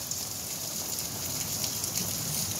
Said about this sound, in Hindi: देखें बड़ी तेज़ बारिश जो है ना स्टार्ट हो गई है